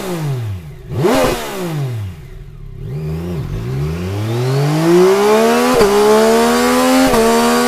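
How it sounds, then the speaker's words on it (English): A 2024 Yamaha MT-09's inline-three engine revs loudly and alone, climbing and falling through several throttle blips with sharp rises and slower drops. "Next is the MT-09's inline-3 engine."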